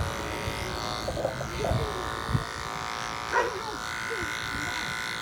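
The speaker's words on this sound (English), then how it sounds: "we can go ahead and shave everything off the rest of the side of the head" Electric clippers shaving the side of a man's head at home, a close, steady buzzing drone throughout with brief changes as the blade moves, while a voice speaks over it.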